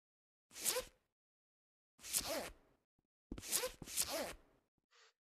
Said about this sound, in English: then it makes that zipper sound